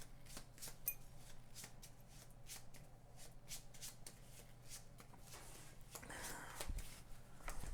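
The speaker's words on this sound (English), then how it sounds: "so let's shuffle these up" Cards for the Aeon's End tabletop game are shuffled by hand in a steady run of quick riffling snaps lasting several seconds, close and crisp, with soft handling rustle toward the end.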